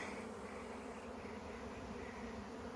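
A swarm of honeybees from a strong hive flies just overhead, producing a loud, unbroken droning hum that stays even and close throughout.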